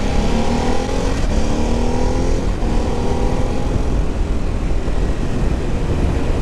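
Ducati DesertX motorcycle engine pulling through the gears, a loud, steady roar with pitch sweeping upward twice and falling at each shift, then settling into a broad, rushing drone with heavy wind noise.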